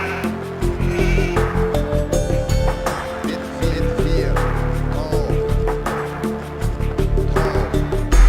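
Sheep bleat repeatedly in Age of Empires 2 over game music and ambient sounds, the bleats loud and close with some speech mixed in.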